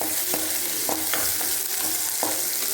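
Onions frying in oil for a green gram curry, a steady close sizzle with a few distinct scraping stirs of a spoon against the pan spaced through it.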